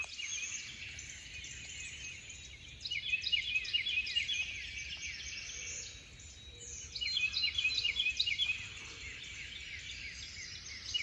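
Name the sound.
birds singing in the woods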